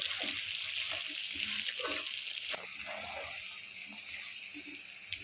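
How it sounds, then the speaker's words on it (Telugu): Goat tripe (boti) fries in hot oil in a pan, giving a steady close sizzle with scattered small pops and spatters throughout. "బోటి పేలి మీద పడుతుంది"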